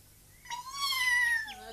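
A tomcat in a 1965 Slovak puppet fairy tale gives a single drawn-out, wavering meow, loud and close, with a rising start and a falling, trailing finish, alone over a quiet background hum.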